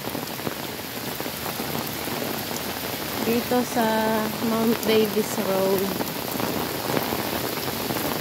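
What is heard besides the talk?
typhoon rain and wind while walking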